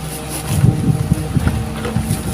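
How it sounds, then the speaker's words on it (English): Strong wind buffets the microphone in low, rumbling gusts at an old town house in Rhodes, with a steady drone underneath. "it's very, very windy"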